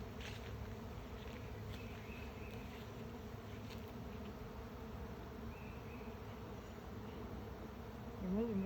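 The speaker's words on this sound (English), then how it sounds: "The bees are in flight." A swarm of bees in flight near a house gives a continuous low droning buzz, steady and fairly faint throughout, with no talking.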